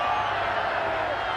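Rugby league crowd at a 1991 Penrith versus Balmain match reacting to a tackle, a steady, loud roar of many voices with whoops and jeers throughout.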